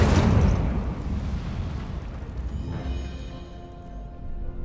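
A wizard video game's Incendio fire spell is cast with a loud burst and a fiery whoosh that flares at once, then rumbles and fades over a few seconds, with no talking over it.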